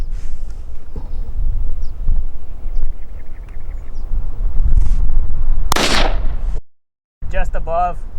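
A single loud, sharp gunshot at an outdoor 3 gun shooting competition cracks out over steady background noise, with a brief cutout afterward and a voice calling near the end.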